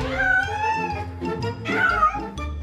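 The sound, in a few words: cat meowing, civet cat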